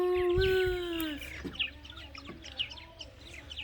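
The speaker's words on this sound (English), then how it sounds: "There's so many of them chirping at you all morning long" Several birds chirp and call at a holiday rental in the morning, with a rooster-like crowing cry at the start and scattered tweets afterward, moderately near, with no talk.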